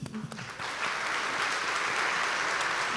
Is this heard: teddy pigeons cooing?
no